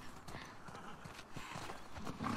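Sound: horse hooves clip-clopping, from video game The Last of Us Part II

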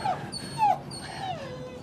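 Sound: small dog yapping and whimpering

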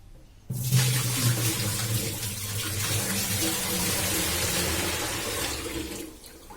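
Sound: water poured into a traditional clay pot, draining out

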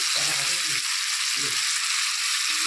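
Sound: stirring shing fish frying in a pan

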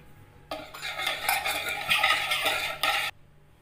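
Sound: mixing spices into buttermilk

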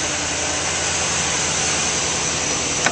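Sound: 2012 Chevrolet Silverado 2500 6.0 liter engine starting up

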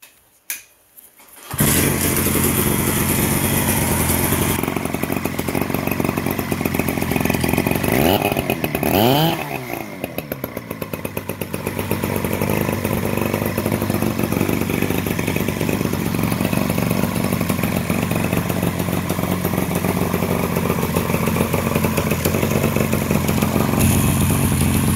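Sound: Mercury 180cc two-cylinder two-man chainsaw running

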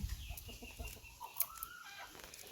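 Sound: chickens clucking

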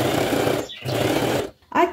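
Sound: sewing machine stitching fabric all around

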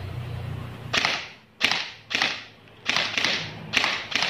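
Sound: E&C EC-633 airsoft gun with suppressor firing semi-auto

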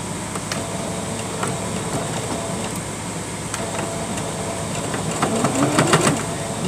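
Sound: sewing machine stitching a doll sleeping bag

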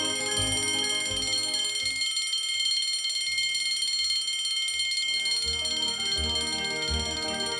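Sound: Patek Philippe Henry Graves Supercomplication watch face chime/alarm

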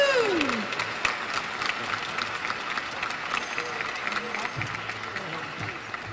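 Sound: applause

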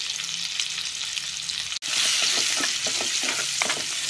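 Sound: onions sautéing in oil

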